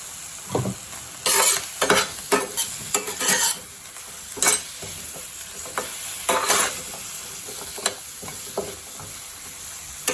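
Garlic and curry leaves sautéing in a pan, with loud bursts of sizzling and crackling between spoon stirs and scrapes against the metal, close and uneven.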